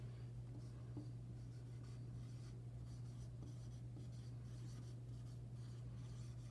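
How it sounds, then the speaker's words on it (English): Pen or pencil writing a number out in words by hand on paper, faint scratchy strokes in short bursts over a low steady hum, close with no talking. "I'm going to write the number in word form just like I say it."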